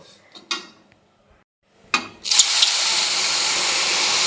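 Water poured into a hot pan of semolina roasted on low flame until reddish, starting with a couple of sharp clanks, then a loud, steady sizzling hiss that carries on to the end.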